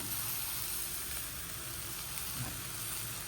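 Chopped korala, a wild leafy vegetable, being stirred into onions frying in a pan, with a steady low sizzle running through the whole stretch and faint scraping from the stir, close by with no one speaking.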